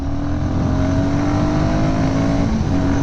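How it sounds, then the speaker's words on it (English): A Royal Enfield Guerrilla 450 motorcycle accelerates hard under full throttle in third gear around 3000 rpm, its engine note loud, close and steadily rising throughout. "when you throttle it out like totally, yeah, once it's there, like in third 3000 rpm, you see the pull"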